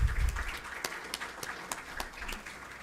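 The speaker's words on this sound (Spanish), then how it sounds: "Por favor, brindémosle un último aplauso" Audience applause at an academic conference session on venous blood sampling, a broad, steady wash of clapping with a few sharper claps standing out, moderately distant and fairly quiet throughout.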